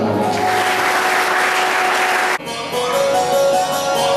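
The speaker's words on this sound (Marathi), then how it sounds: "त्यांच्यासाठी एकदा जोरात टाळी" A temple crowd at a Sai Baba katha gathering claps loudly and continuously, the dense applause breaking off abruptly partway through before resuming at a lower, steadier level.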